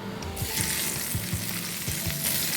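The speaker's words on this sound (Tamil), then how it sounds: "இப்போ இதை தாளித்து நம்ம தூதுவளை சட்னிக்குள்ளே இதை நாம் ஊற்றி கிளறிடுவோம்" Hot tempering is poured into thuthuvalai chutney and stirred in, producing a loud, dense, continuous sizzle with rhythmic low scraping strokes from the stirring, close up and with no one talking.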